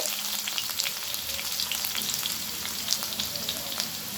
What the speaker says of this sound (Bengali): আলুগুলো আমার খুব ভালোভাবে ভাজা হয়ে গেছে।